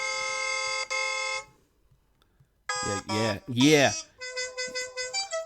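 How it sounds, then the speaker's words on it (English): Car horns honk in several blasts: a long sustained tone, then a pause, then wavering and pulsing honks ending in a quick series of short beeps, with a brief spoken word mixed in. "We're honking out here."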